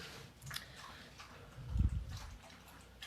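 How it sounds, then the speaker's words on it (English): Soft wet lapping and smacking sounds, like a dog licking or drinking, with a brief louder slurp near the middle; quiet and close. "You can excuse the sounds of licking in the background."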